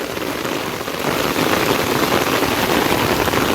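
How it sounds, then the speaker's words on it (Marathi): Heavy monsoon rain pours down steadily at Ganesh Ghat, Kumbharkhan Pada, Dombivli, by the flooded Ulhas creek, a dense broadband hiss that thickens after the first second and continues unbroken. "कसला खतरनाक पाऊस पडतोय"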